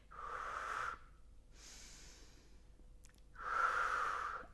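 Forceful breaths during an abdominal exercise: two strong, drawn-out exhalations about a second long, one at the start and one at the end, with a softer breath between them. Close and clear, with no talking.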